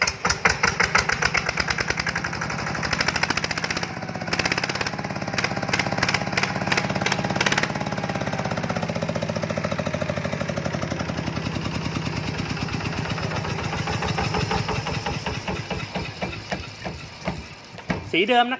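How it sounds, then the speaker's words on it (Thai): A motorcycle engine idles with a steady knocking pulse, then the throttle is blipped and revs rise and fall, loud and close, with no clear talk. "เดี๋ยวมาฟังรอบเล่นกันนะครับ"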